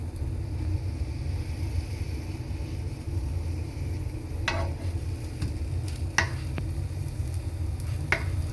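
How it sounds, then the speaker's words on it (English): Bread roasting in a pan gives a low steady frying hiss throughout, broken in the second half by a few brief clicks and scrapes of a utensil against the pan, with no one speaking. "Bread is cooking."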